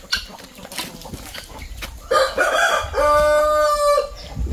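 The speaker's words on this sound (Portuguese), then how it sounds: "Galo." A rooster on a rural farm crows in a loud, drawn-out call near the end, amid clucking hens and other fowl in the late afternoon.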